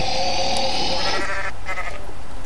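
A goat in the video game Goat Simulator bleats with a loud, drawn-out, wavering cry that breaks off, followed by a few shorter bleating pulses, with no talk.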